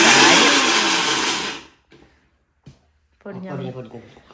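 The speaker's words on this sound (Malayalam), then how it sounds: "ഓക്കെ നമ്മളങ്ങനെ അന്തിപ്പരിപ്പും പൊടിച്ചു" A mixer grinder grinds cashew nuts with a loud, steady whirring that runs for about a second and a half, then cuts off abruptly, leaving brief clicks before people begin talking.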